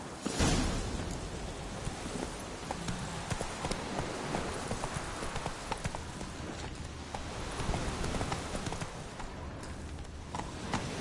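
Hooves of the horse Scorpion in The Witcher 3 clip-clop steadily at a walking pace, close and fairly clear, with faint ambient outdoor noise behind and no voices.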